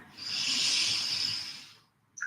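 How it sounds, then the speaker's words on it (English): A long, breathy exhale through the mouth, a steady airy hiss swelling and fading over about two seconds, close and alone, with a faint breath at the end. "Exhale through the mouth."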